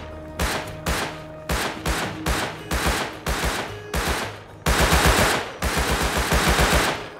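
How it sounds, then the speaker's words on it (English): Rapid bursts of gunfire hammer a base wall in Rust, a steady series of loud repeated shots in short volleys, growing denser toward the end with no talk over it. "I'll shoot the wall. I shot the wall."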